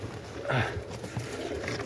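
Soft, low cooing from domestic pigeons in a loft, including a bird paired for breeding with a shaika pigeon; a couple of brief coos heard nearby against quiet background noise.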